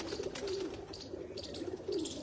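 Pigeons coo repeatedly on a rooftop loft at Chak Jhamra, Faisalabad, soft rolling calls recurring in a steady rhythm, fairly close, with no voices.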